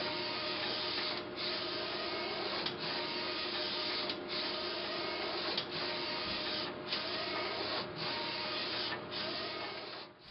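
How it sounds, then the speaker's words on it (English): An HP Z-series large-format printer prints and reads profiling targets, giving a steady mechanical whir and hum with regular clicks every second or so as the carriage moves, and no voices. "the printer and the onboard system have printed the targets and read the targets and built the ICC profile"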